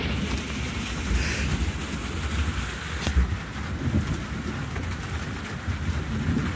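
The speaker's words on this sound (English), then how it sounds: "And there's the thunder." Steady rain pours down, with a brief rumble of thunder rolling in midway through the downpour.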